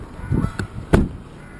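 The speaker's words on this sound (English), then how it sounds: "now here's our vicious geese" A few short, harsh goose honks, two or three calls spaced irregularly, fairly close, over a quiet outdoor background.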